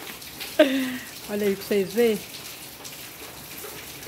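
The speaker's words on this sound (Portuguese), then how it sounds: "Na hora que a chuva começou, gente." Steady rain falls outdoors at home, a soft, even hiss running the whole time while someone briefly speaks over it.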